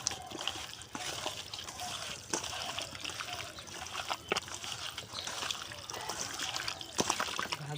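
Hands squelching and working raw goat meat with salt and mustard oil, wet slaps and sloshing at moderate level with a few sharper splats, steady rhythmic mixing throughout.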